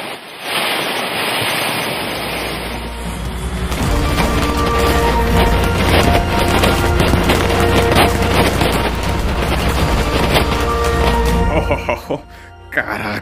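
A loud, sustained burst of booming and crackling from the Traque firecracker monster in My Singing Monsters fills several seconds, dense and noisy, then cuts off abruptly near the end.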